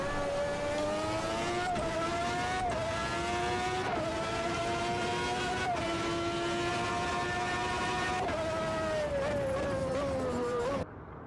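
Race cars in Automobilista 2, played in VR, scream past one after another, engine pitch jumping and falling with each pass, in a continuous loud whine.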